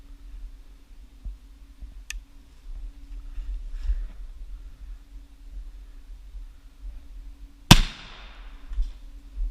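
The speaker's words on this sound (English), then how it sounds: "We gotta shoot this golf ball." A Savage .410 shotgun fires a single sharp, loud shot at a golf ball outdoors, a sudden crack with a trailing ring-off after a stretch of quiet low hum.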